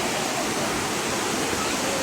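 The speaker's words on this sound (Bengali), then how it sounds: "আর এখান থেকে জলটা পড়ছে" Waterfall in Meghalaya pouring down beside steep steps, a dense, continuous broadband rush of falling water, loud and steady.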